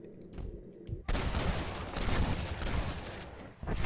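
A dense burst of rapid gunfire erupts in the video game Red Dead Redemption, loud cracking shots packed together for a few seconds after a quieter start, then breaking off near the end.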